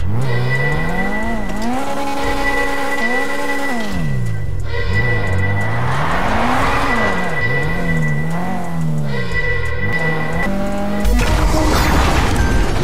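A car in the video game GTA RP roars close and loud, its engine revving up and down through gear changes with squealing tires and skids, ending in a rougher burst of noise.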